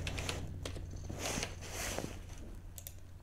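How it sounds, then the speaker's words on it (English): Quick taps on a computer keyboard while entering a search in the Windows start menu, a light irregular patter of keystrokes, close and quiet, with no voice over it. "Go to the start menu and type services."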